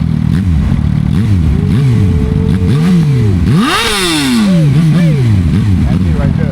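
A motorcycle passes by on a Houston road, its engine loud and close, revving with rising and falling pitch sweeps during a cruise to a car meet, with a strong steady engine rumble underneath.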